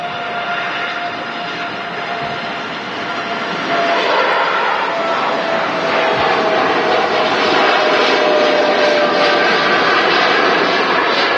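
A TUI Boeing 787 Dreamliner jet takes off at Manchester Airport, a steady broad engine roar that swells slightly and holds fairly loud and close.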